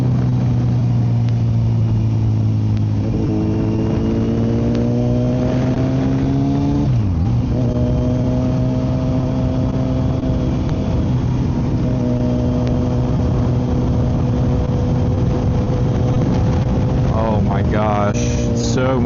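A Kawasaki Z900 motorcycle fitted with a full M4 exhaust and ECU flash, ridden on a road, loud and close, with rising gear-by-gear revs, a downshift dip and steady cruising drone; some talk mixes in.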